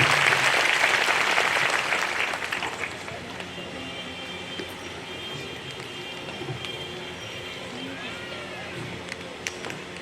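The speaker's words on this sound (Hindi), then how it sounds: "हम लोग जोरदार ताली बजा दें।" Congregation applauding at a Catholic priestly ordination ceremony, a dense burst of clapping that is loudest at the start and fades over the first few seconds into murmuring room noise.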